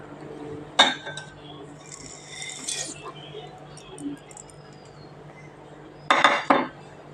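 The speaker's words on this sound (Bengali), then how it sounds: "এখন নুডলস এবং আলু একসঙ্গে দিয়ে দিব" Noodles and potatoes dropped into a pan with a little water, giving a sharp clatter of metal and utensils, some scraping and light clinks, then a second loud rattle near the end.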